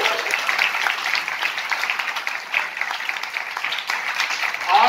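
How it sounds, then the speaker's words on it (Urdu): Congregation at a church gathering claps in a full, steady round of applause, with voices mixed faintly through the clapping. "میں چاہتا ہوں کہ ایک بار بھرپور تالیاں بجائیں"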